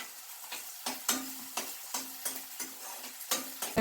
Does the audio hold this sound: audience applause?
no